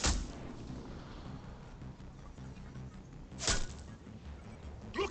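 Cerberus troops open fire in Mass Effect 3, sharp gunshots cracking out at the start, middle and end over a steady background rumble of battle.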